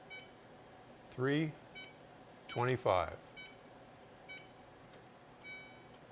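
An oven's control panel gives short electronic beeps while bake mode is being set, several brief tones scattered between a person's nearby talk.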